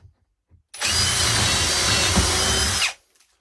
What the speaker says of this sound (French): Je suis bien sûr en vitesse 2 sur le mode perçage.